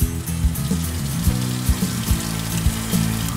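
Tap water running into a sink while hands are rinsed and rubbed, a continuous close splashing wash heard over low background music.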